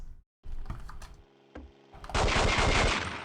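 Gunfire in The World is Not Enough, a James Bond video game on N64 and PS1, sounds as a few sharp shots and clicks, then a dense, loud burst of rapid fire.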